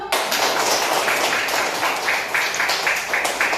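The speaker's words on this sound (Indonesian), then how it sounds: "Tepuk tangan dulu." An elementary school class claps hands in a steady, loud, continuous patter that fills the whole moment without a pause.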